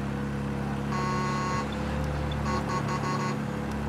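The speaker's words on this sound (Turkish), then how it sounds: "Korna güzel, bildiğimiz korna." A car horn sounds in the video game Mafia Definitive Edition, first as one steady blast and then as a quick series of short toots, over a constant engine and road hum.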